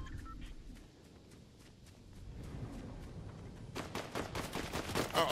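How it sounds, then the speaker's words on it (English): Gunfire in the Fortnite video game crackles as a rapid burst of sharp shots near the end, after quieter scattered thuds and footsteps, with no talk. "Oh! I hear gunfire."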